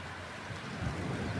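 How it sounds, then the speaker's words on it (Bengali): Steady rain pours onto the ground in a dense, continuous hiss during an April shower in rural Bangladesh, with a low rumble swelling partway through. "বৃষ্টি নামছে"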